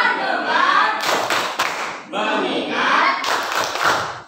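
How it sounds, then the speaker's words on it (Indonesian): A fifth-grade class claps hands together in a rhythmic clap routine, sharp bursts of group clapping in quick patterned beats alternating with chanted voices between them. "Sebelumnya kita tepuk dulu biar fokus pada pelajaran pagi hari ini."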